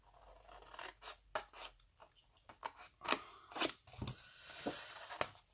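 Scissors snip paper repeatedly while a twisted double-opening box is made, giving quick close, crisp cuts in an irregular rhythm with short pauses and light paper rustling between them.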